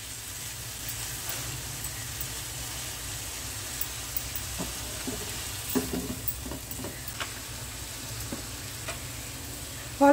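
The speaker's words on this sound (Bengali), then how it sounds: "আর একটুখানি আমি কষিয়ে নিই।" Ground coriander, cumin and chili powder sauté in a pan over the stove, a constant low sizzle with scattered scraping strokes and clinks of a spatula, slightly busier midway, without any voices.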